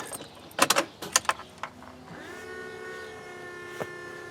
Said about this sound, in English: the noise we're hearing is actually the power steering pump, and it should prime after 30 seconds and stop